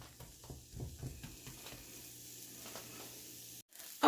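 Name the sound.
onions sizzling while frying in a pan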